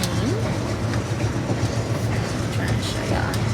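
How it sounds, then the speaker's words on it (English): Inside a packed passenger train bound for Orlando, a steady rolling rumble with rhythmic wheel clatter on the rails and a few faint squeals, while a voice talks quietly over it. "we made it onto the train"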